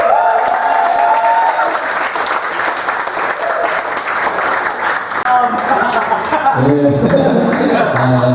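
A large crowd at an Indonesian stand-up comedy show breaks into loud, sustained applause and cheering, and a voice comes in over the clapping near the end.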